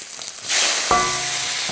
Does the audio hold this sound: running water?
no